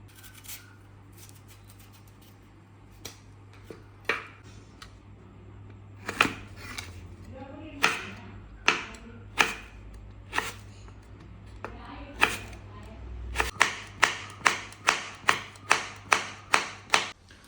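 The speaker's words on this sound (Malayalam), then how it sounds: "ഇനി നമ്മൾ മാങ്ങയിൽ അരിഞ്ഞെടുക്കാനാണ്" A knife chopping raw green mango for aviyal, a series of crisp close taps on a board, sparse at first and then a quick steady rhythm near the end, with occasional faint speech.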